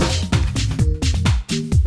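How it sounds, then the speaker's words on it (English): Rhythmic synth chords generated by the Schwarzenator Max for Live plugin in Ableton Live from randomized incoming MIDI, with short stabbing chord hits repeating about every quarter second, loud and alone with no talking. "it essentially makes these crazy chords with whatever MIDI is coming in"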